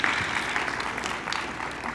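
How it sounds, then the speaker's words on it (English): An audience at an annual Chamber of Commerce awards banquet in Fairfield, Iowa claps steadily for two seconds, a dense, even wash of applause filling the hall with no talk. "give her a round of applause for that"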